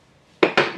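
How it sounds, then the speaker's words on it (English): Gluten-free baguette dough is scraped off a stand mixer paddle in two brief, close scrapes of utensil against metal, one right after the other, with no talking. "So I'm going to scrape my paddle off just like that."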